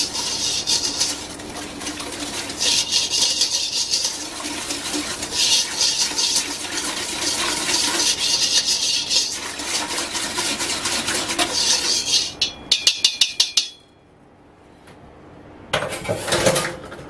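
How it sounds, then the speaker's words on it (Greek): A raisin bread batter made with kefir and cinnamon is stirred in a bowl, producing continuous scraping and clattering strokes with brief pauses, then a short quiet stretch before stirring resumes. "Ανακατεύουμε"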